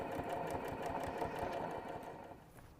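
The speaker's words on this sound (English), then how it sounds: "I'm just going to pull that zipper past the presser foot. And just continue sewing." Sewing machine stitching a zipper onto a fabric pouch, a close, rapid rhythmic clatter of the needle running steadily and then slowing toward the end.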